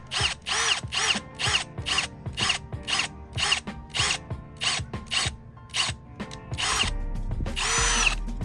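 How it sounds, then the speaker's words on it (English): A 5/8 paddle drill bit countersinks holes in wood for jet ski trailer bunks, heard as repeated short, close bursts of drill whir in a stop-start rhythm, ending in a longer run, with no one talking. "I have a 5/8 paddle drill bit like this."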